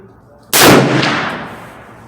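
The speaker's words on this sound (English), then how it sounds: "Okay, I'm going to shoot without the recoil pad" A single loud, sharp shot from a Henry 45-70 Government lever-action rifle fired without a recoil pad, close up, with a booming report that decays over about a second and a half.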